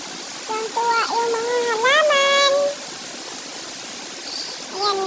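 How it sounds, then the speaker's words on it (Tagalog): Steady heavy rain hiss fills the background on a mountain while a person talks over it, a constant wash of falling water throughout. "Dahil malakas ang ulan."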